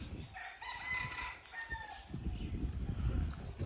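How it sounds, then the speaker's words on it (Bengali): A rooster crows in a village on a breezy winter morning, the call rising and holding across the first two seconds at moderate distance, followed by steady rustling wind and outdoor background noise. "মোরগের ডাক,"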